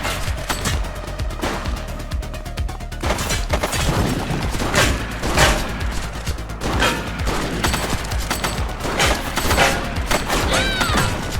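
Rapid bursts of police gunfire in The Precinct, cracking shots and automatic fire rattling loud and continuous with crashes mixed in.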